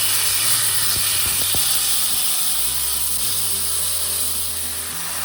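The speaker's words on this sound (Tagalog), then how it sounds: "Ilagay ko na itong binabad na chicken breast natin." Marinated chicken breast dropped into a hot frying pan gives off a loud, steady hiss and sizzle, with a few sharp clatters near the start, and no talking.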